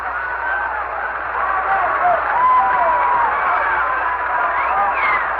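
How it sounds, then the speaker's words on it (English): A baseball crowd at Royals Stadium on an old-time radio broadcast: a steady, muffled, tinny roar of distant cheering and babble holds at an even level, with faint whistle-like calls rising through it. "the crowd here in Royal Stadium is all of a sudden starting to make a little noise"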